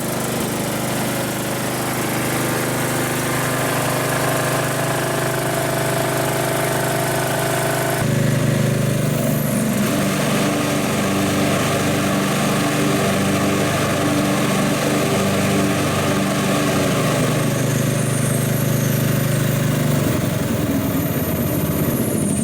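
A Craftsman riding lawn mower engine, freshly restored, runs steadily and loudly throughout, with a shift in tone partway as the throttle changes, and a continuous mechanical drone.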